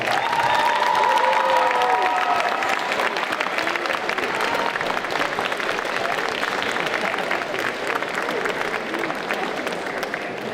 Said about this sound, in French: On l'applaudit encore très très très très fort